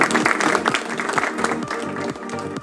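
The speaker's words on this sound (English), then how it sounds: "Round of applause again, please." Audience clapping for a candidate at a Miss World Philippines 2021 casual interview event, a moderately loud burst of many hands with some individual claps standing out, fading slightly toward the end.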